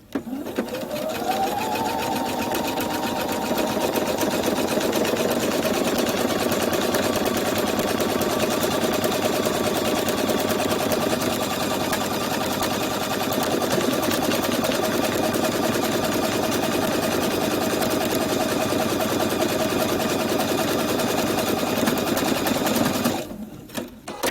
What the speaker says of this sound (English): press on our foot pedal and we are off to the races